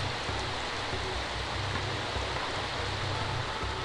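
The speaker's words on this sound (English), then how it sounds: "Turn the rain off." Steady rain in The Sims 3 video game hisses evenly as a soft, continuous wash of falling drops with no voices over it.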